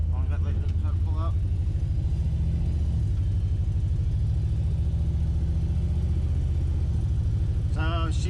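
An LS V8-swapped Chevrolet S10 pickup drives down a street, its engine a steady, loud low rumble throughout, with a brief shift-like dip near the middle and short bits of talk at the start and end.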